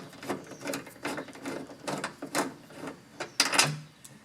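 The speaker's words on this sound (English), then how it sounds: "we'll remove the 3 screws holding the door latch and the actuator in place" A screwdriver backs out the screws holding a car door latch and lock actuator, giving a string of close, dry ratcheting clicks and short mechanical rasps in uneven bursts, with a sharper clatter near the end.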